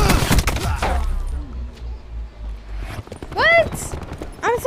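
Gunshots fire in a video game shootout, a few sharp bursts at the start and again near the end, with whistling and chirping game sounds between them and brief quiet stretches.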